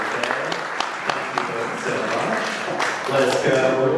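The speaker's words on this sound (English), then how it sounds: "let's give a warm round of applause for the" A church gathering audience at an Episcopal General Convention event gives scattered applause, moderate clapping mixed with background voices and room noise.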